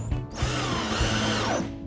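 A power drill drives screws into wood while a sunken kotatsu table is being built in a kei car, the motor whining close up in a short loud run with stuttering changes in pitch as the screw bites.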